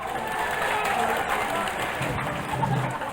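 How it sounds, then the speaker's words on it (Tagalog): Applause from an audience at a political speech in the Philippines, a dense continuous patter of clapping with crowd noise, fairly loud and steady throughout, with a voice faintly mixed in. "palakpak naman dyan"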